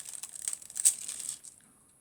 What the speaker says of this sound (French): Alors là, le papier se déchire.